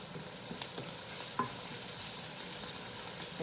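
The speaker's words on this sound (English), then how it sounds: "I'm going to go ahead and just saute this a little longer" Onions sautéing in rapeseed oil in a pan, a steady close sizzle running throughout, with a few light scraping stir strokes and one sharper clink near the middle; no one speaks.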